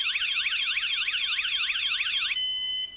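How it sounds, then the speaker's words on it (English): A vehicle's anti-theft alarm sounds loud and alone: a rapid warbling, sweeping electronic tone for about two and a half seconds, then shifting into steady high beeping tones. "our alarm lets off a 2-second beep"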